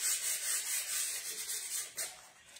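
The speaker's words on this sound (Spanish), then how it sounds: "Lijo para soltar." Sandpaper rubs by hand over a ceramic majolica tile to loosen it. The scraping is close and steady, in quick back-and-forth strokes with no pauses.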